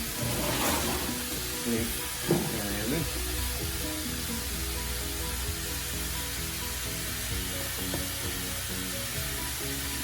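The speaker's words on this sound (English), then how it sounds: "Let that fry up a little bit." Eggs Benedict ingredients frying in a pan, giving a steady broadband sizzle and hiss that carries through the whole clip, with occasional clinks and stirring noises and a voice talking over it.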